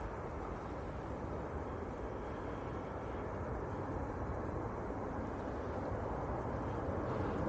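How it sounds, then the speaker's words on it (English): A Ryanair jet climbs away after takeoff from Manchester Airport, its engines a steady broad roar that holds from start to finish at a moderate distance, with no talking. "that was a Ryanair to Fuerteventura. Just getting airborne."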